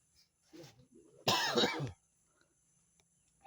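A single harsh cough burst, close and fairly loud, preceded by some quiet muffled vocal sounds, then near silence.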